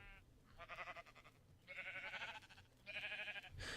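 Sheep bleating in the Minecraft video game: three separate wavering bleats, evenly spaced and fairly soft, with short gaps of quiet between them.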